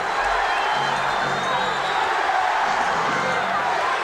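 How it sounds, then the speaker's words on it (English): Arena crowd at a 1991 NBA Finals basketball game between the Bulls and Lakers, a dense, steady roar of many voices chanting defense, loud and continuous throughout. "Crowd with the chant of defense."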